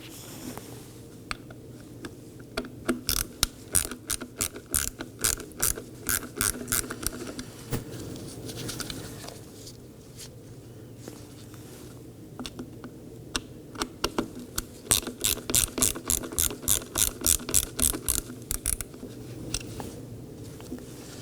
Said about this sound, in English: I'm going to go ahead and remove these two T15 Torx screws holding the camera down.